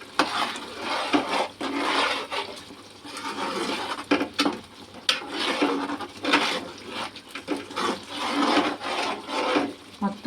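Rice is being mixed by hand with salt and spice powders for green egg khichdi, producing close, repeated rubbing and squishing strokes in an uneven rhythm, with no voices heard.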